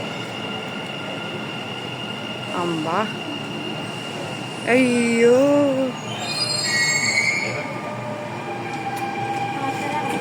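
Dubai Metro train rumbling at a station with a steady hum, brief rising and falling electric whine and squeal, while people talk nearby and a short exclamation breaks through.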